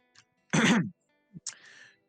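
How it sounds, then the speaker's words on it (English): A single throat clearing, close and fairly quiet, followed by a short breath and a brief soft vocal sound. "I clear my throat"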